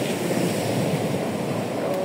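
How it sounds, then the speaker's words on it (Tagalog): Strong ocean waves wash steadily onto a beach after a tropical storm, a dense, continuous roar of surf mixed with wind rumble on the microphone. "malakas-lakas pa rin yung alon"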